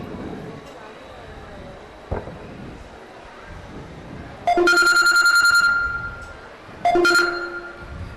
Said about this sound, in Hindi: भाई रशीद साहब का फोन आ रहा है, कुछ जरूरी काम होगा।